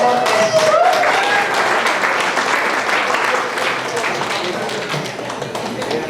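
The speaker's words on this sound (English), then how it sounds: "Please welcome with a round of applause." A crowd at a community breakfast event in Fort Worth applauds warmly, a dense, loud wash of clapping with some voices mixed in that holds steady and slowly eases off.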